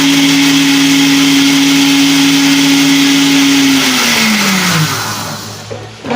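Electric hand mixer whipping eggs for a cassava and corn cake, a loud steady whirring motor that drops in pitch near the end and then cuts off, with no talking.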